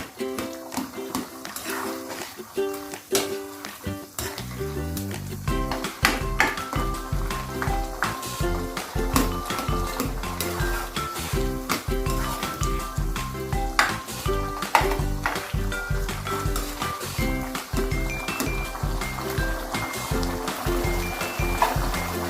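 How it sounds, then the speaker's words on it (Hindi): Peeled tomatoes being stirred with a spoon in a karahi for a Peshawari mutton Shinwari karahi, a steady wet sizzle and scraping that runs the whole time, close and fairly loud, with faint speech and clatter in the background. "चम्मच की मदद से हम टमाटरों को मिक्स करते जाएंगे।"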